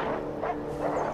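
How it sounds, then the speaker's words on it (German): Dogs barking in the video game Far Cry 4, a couple of quick, close yips and barks within about a second over a steady game background. "Hunde! Halbwütige Hunde!"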